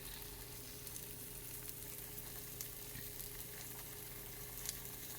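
Maamoul date-filled dough cooks in an oiled takoyaki pan with a faint, steady sizzle and soft crackle throughout, with no talking.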